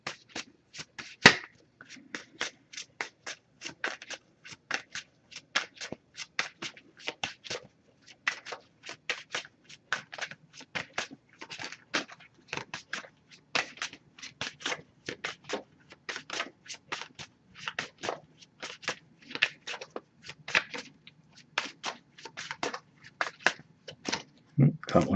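An oracle card deck is shuffled in a long, steady run of quick, light card flicks and riffles, close by and quiet, continuing without pause.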